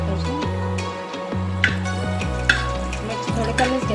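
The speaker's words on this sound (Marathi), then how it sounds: "मस्त तळून घ्यायला पाहिजे। त्यात मिरची टाकायची" Chilies fry in hot oil in a pan for Schezwan fried rice, a steady close sizzle with stirring scrapes and occasional sharp clicks of a spoon against the pan, continuous throughout with no voices.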